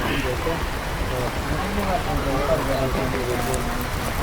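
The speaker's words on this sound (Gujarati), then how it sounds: "હવે વરસાદ ચાલુ થઈ ગયો છે" Steady rain pours outdoors as people set off for home, a dense, even patter holding throughout beneath close voices talking.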